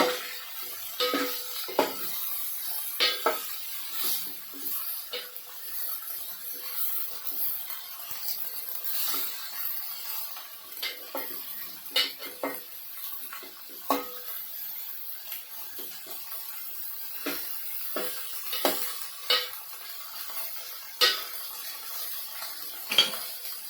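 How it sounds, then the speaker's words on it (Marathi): Stuffed eggplants are turned over in a pan, with scattered light clinks and scrapes of a utensil against metal cookware over a quiet background, several sharp taps spread unevenly across the stretch. "वांगी ना आपण थोडी अशी त्याची साईड बदलून घेऊया"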